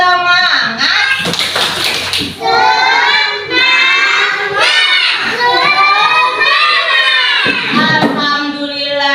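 Children at school join a rhythmic spirit clap chant, chanting together in loud, sing-song voices with claps and taps mixed in, continuous and close throughout.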